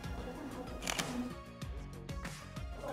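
A camera shutter firing with a flash trigger switched on, giving a few quick, faint mechanical clicks in a row during a wedding reception, close to the microphone.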